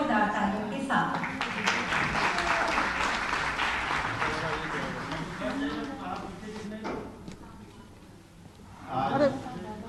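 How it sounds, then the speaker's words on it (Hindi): Applause from a crowd at an official government event, broad and sustained for most of the stretch before fading, then a brief swell near the end, with voices mixed in underneath. "आप सबकी शुभकामनाओं रूपी जोरदार तालियों के साथ।"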